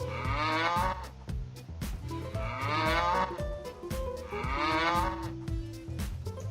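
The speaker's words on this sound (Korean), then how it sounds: "젖소가 이게 네번 울 때가 있거든 그때가 타이밍이거든" Dairy cows in the game Lineage Remastered moo repeatedly, several drawn-out calls layered over a busy backdrop of in-game music and effects, loud and continuous throughout.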